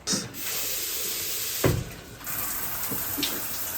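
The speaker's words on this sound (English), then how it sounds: "We are in the shower. This is the shower." Shower water running steadily in a small bathroom, a continuous loud hiss of spray with a brief splashy surge partway through, no voices over it.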